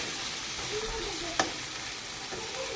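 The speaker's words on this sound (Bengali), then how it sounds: "আমটা দিয়ে আবারও নেড়ে নিচ্ছি, মানে কষে নিচ্ছি মশলার সঙ্গে খুব সুন্দর করে।" Raw mango pieces are stir-fried with spices in a hot pan, making a loud, continuous sizzle with stirring scrapes and one sharp clack of the utensil against the pan.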